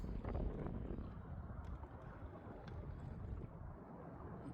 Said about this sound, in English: Boy, is that wind blow!